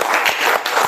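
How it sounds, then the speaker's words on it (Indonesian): Classroom applause for a student group that has just presented, a short burst of brisk, uneven clapping from several people, fairly close and with no talking over it. "Tepuk tangan dulu sama mereka."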